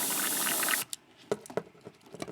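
Airbrush backwash during cleaning: a strong, steady airy hiss with spraying liquid for most of a second, then stopping, followed by a few soft clicks and light liquid taps close by.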